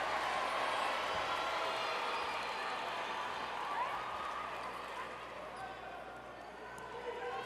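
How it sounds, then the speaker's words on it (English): A futsal arena crowd at the Guatemala vs Cuba women's Concacaf championship applauds Guatemala's substitute goalkeeper Tony Davila, a broad, distant wash of clapping and murmur filling the hall under ongoing commentary. "Crowd appreciating Tony Davila, the keeper for Guatemala, getting an opportunity off the bench"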